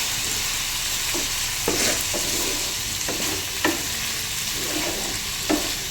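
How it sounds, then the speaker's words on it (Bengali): Paneer methi being stirred in a pan over a low flame, with a steady soft sizzle and irregular scraping strokes of the spoon standing out every second or so, close and alone without any talk. "একটু কম আঁচ করে ভালো করে নিব মিশিয়ে"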